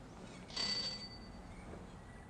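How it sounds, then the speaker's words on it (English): A door bell rings once in the Gabriel Knight game The Beast Within, a short bright chime that fades quickly against faint background ambience. "Ring the bell?"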